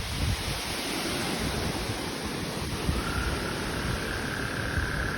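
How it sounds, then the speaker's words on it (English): Strong, steady wind during Hurricane Beryl roars as a broadband rush, loud and continuous for the whole stretch with no talking. "Still pretty windy."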